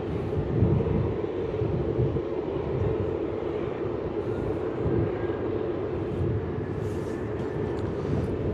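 A jet airliner takes off from runway 34 at Melbourne Airport, a steady, broad engine roar heard from a distance with some wind rumble, continuous and unbroken throughout with no voices.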